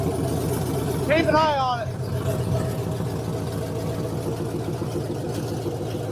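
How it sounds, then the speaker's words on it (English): A newly installed car engine idles with a steady, rumbling drone at about 55 psi oil pressure. It sounds near and continuous, with someone talking briefly over it. "Let it idle."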